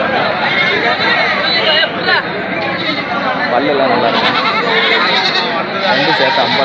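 Goats bleat repeatedly and loudly at a busy Saturday goat market in Ettayapuram, with dense crowd chatter and people talking throughout, several animals calling over one another close by.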